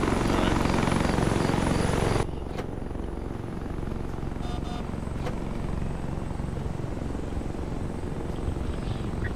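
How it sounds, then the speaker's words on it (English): Ghost Hawk military helicopter from Arma 3, a loud steady rotor and engine roar that drops in level after a couple of seconds and keeps droning throughout. "Alpha's loading up in a Ghost Hawk."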